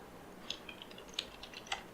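Light, close clicks of a computer keyboard as a prompt is typed: a few scattered keystrokes over about two seconds in a quiet room.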